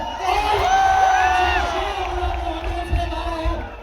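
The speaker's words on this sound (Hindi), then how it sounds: "दोस्तों जोरदार तालियां" A crowd at a university campus cricket pitch cheers and whoops loudly as a bowler takes his spot, a sustained roar of many voices that swells early and eases slightly toward the end.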